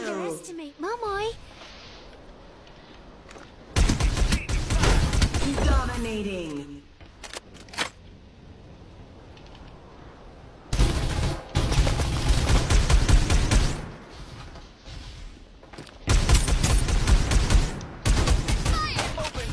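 Bursts of video game gunfire in Farlight 84 come in dense volleys separated by pauses, with character voice lines and callouts spoken between and over the shooting.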